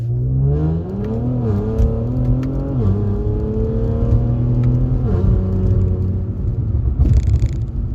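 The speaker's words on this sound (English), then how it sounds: "When you feel like you're in the clear, I want you to launch it and go to like 60." An Infiniti Q60 launches hard from a standstill and accelerates to about 60 mph, engine note climbing steadily through several gear shifts, loud and close from inside the car, with a brief burst of wind or tire noise near the end.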